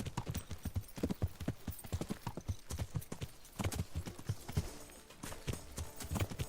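Horse hooves clip-clop in a quick, steady rhythm, a close run of sharp knocks that keeps going throughout, from the video game Kingdom Come: Deliverance.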